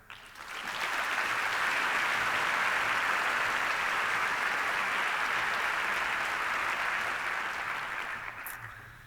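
An audience applauds to welcome speaker Gary Haugen at a reading celebration event, a dense steady roar of many hands clapping that swells in quickly, holds for several seconds and fades near the end.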